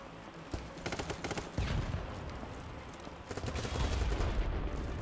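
Light machine gun fire in the shooter game BattleBit Remastered, with repeated rapid bursts of close, sharp shots in stuttering volleys that nearly fill the stretch and layer over one another.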